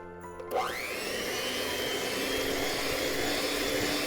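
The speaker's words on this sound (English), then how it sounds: "Take your little hand mixer, if you've got a stand mixer, that'll work too, and mix it up" An electric hand mixer whirs up to speed and runs steadily while mixing thick cake batter in a bowl, a loud close motor whine with no talking.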